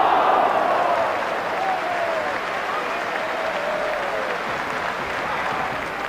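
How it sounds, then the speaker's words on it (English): A large football stadium crowd at a West Ham match cheers and applauds in a steady, dense roar that fills the whole stretch, with a faint whistle-like tone drifting through early on. "But there was a big crowd."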